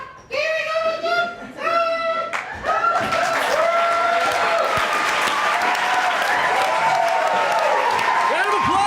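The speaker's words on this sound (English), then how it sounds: "Round of applause!" Audience applause at a live monologue slam performance: a brief voice opens, then dense, sustained clapping swells in after about two seconds and holds steady and loud to the end.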